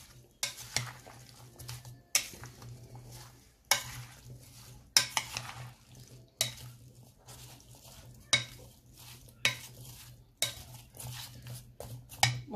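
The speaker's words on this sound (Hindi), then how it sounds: "And then we will mix it." A protein fruit salad is tossed with black pepper and chaat mix, producing repeated rhythmic spoon knocks and scrapes against a bowl at roughly one-second intervals, close and moderately loud, with no talking.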